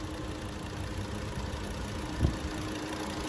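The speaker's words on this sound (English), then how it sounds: "but listen to that engine." A car engine idles smoothly and steadily, a low continuous hum with a faint high whine, recorded fairly quietly from nearby, with one soft thump near the end and no talking.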